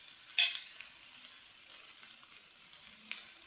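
Capsicum frying with cashew nuts in a pan, a soft continuous sizzle at low level with a sharp scrape of the utensil near the start and another toward the end.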